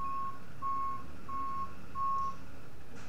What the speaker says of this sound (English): there's beeping outside. We're getting a delivery.